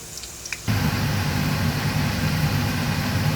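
Egg fried rice ingredients hit a hot wok and a loud, steady sizzle bursts in abruptly after a quiet moment, then continues evenly with a low hum underneath.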